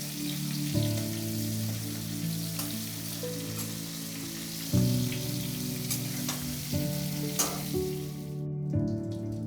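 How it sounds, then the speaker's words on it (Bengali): Prawns frying lightly in a pan: continuous soft sizzle and crackle with intermittent spattering bursts, close and fairly quiet, no talking. "খুব হালকা করে আমরা ভেজে নেব"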